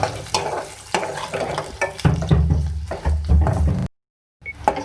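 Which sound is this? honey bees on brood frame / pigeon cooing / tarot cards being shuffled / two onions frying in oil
two onions frying in oil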